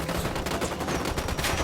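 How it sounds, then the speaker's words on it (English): Rapid video-game gunfire in Ghost Recon Wildlands, a dense burst of shots fired continuously without pause, loud and close. "I'm opening fire on these shitheads."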